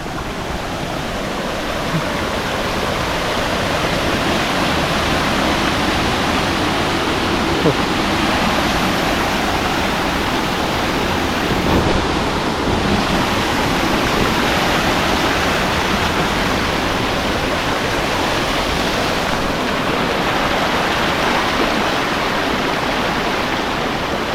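Heavy water pours over Thoovanam waterfall in Munnar, a dense, continuous roar of rushing water that stays steady and loud throughout, with no speech over it.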